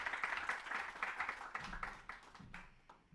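Applause from an audience at a poetry gathering, a dense patter of clapping hands that fades slowly toward the end, moderately loud with no voices over it.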